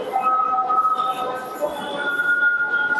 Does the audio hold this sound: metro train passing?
yes